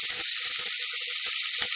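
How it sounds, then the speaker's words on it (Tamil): Finely chopped onions hit about four spoonfuls of hot oil in a pan, giving a loud, steady sizzling hiss with a few soft bumps of movement underneath. "எண்ணெய் காஞ்சிருச்சு. இதில் பொடியாக நறுக்கின வெங்காயம்,"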